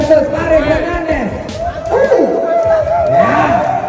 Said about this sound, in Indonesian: Sorakan meledak, sebagian mendukung Paris, sebagian lagi tertawa melihat provokasi Eddie